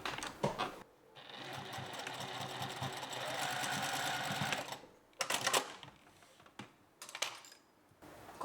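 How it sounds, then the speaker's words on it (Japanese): A sewing machine stitches over a fabric loop on a dress back opening, a close rapid mechanical chatter running for several seconds, then a few short bursts of stitching. "これで引っこ抜けてしまわないようにもう一度少しずらしたところをループの上を縫っておきます。"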